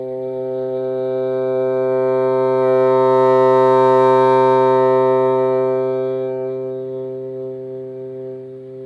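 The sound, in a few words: bassoon reed test long tone, soft to loud to soft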